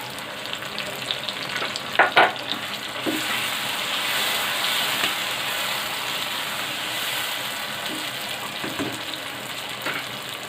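Paste from four tomatoes hits hot oil in a pan of Hyderabadi chicken biryani, giving a loud initial splutter, then a steady broad sizzle with a few stirring scrapes and no talk.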